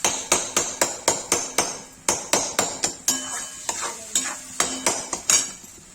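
Tomatoes frying in a pan, a spatula tapping and scraping the pan in quick regular clicks over a soft sizzle, close and moderately quiet, without speech.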